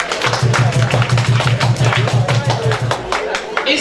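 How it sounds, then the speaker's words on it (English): Guests at a funeral reception for Pa Joseph Alot Ngwana clapping in a room, a dense run of applause with a steady low rhythmic thumping beneath it, loud and close, fading toward the end. "Can we give him a round of applause,"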